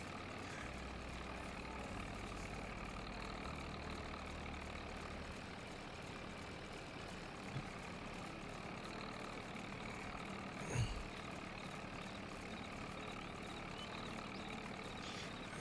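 A tractor engine idling in Farming Simulator 22 on a classic farm map, a low steady hum and drone that runs on evenly, with one brief thump partway through.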